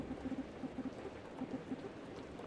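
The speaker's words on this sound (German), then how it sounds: "Und es hat angefangen zu regnen." Steady rain patters in the video game Distraint, a soft, even wash of falling drops with scattered faint rhythmic ticks and no voices.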